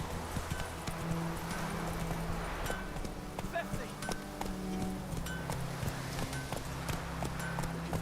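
Horse hooves clip-clop steadily in The Witcher 3: Wild Hunt video game, a continuous rhythmic gait under game music, with a voice speaking over it.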